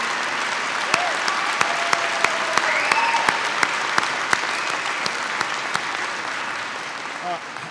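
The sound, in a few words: audience applause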